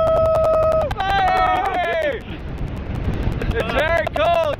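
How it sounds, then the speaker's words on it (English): Strong wind gusts roar across the microphone on the summit of Mount Shavano, a steady loud rumble under excited shouting voices. "It's very windy!"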